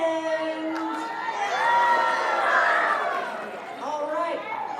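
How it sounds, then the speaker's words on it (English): A crowd of about 500 people at a trivia event cheers and whoops loudly, with children shouting and excited chatter swelling through the middle before easing off. "Give yourselves a round of applause."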